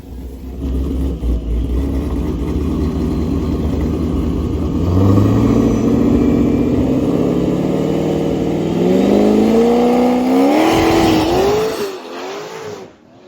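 C7 drag car launching hard down a drag strip with the clutch slipping, a loud engine roar rising through several gear changes before fading as the car pulls away, with no talking.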